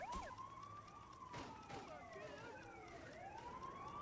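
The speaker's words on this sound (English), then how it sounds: "It has slightly different siren." A police siren wails with rising and falling tones in Grand Theft Auto 2, fairly faint and steady, with a few sharp bangs mixed in.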